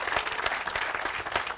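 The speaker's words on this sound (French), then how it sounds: "Là, on s'auto-applaudit" Dense audience applause fills a political conference hall, continuous, close and loud for the whole short stretch, with no voices standing out.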